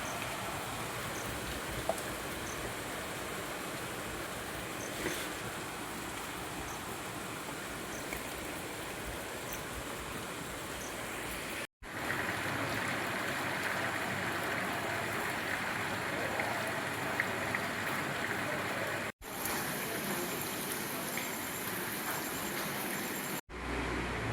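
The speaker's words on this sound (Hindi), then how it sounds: "और देखिए बारिश अच्छी खासी हो रही है।" Heavy monsoon rain pours steadily outdoors in India, a dense, loud hiss of rain on surfaces filling the whole stretch with brief cuts between sections.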